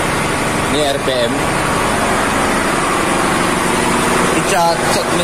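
Engine idling steadily during an engine check aboard a vessel unloading a cargo of crude palm oil, a constant broadband hum throughout with brief speech-like bursts near the start and end.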